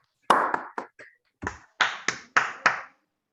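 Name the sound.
audience applauding over Zoom call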